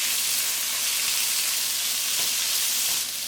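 Vegetables lightly sautéing in olive oil for chicken fried rice, a steady close hiss and sizzle from the pan throughout, with no talking.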